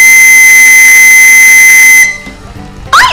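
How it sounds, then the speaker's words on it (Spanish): A loud, shrill whistle blast held steadily for about two seconds, then cut off, followed by a brief rising squeak. "vamos a silbar"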